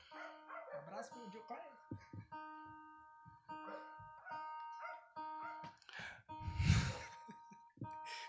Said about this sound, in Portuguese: Cachorro aqui.